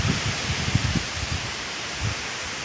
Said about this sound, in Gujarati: હમણાં પવન નીકળ્યો છે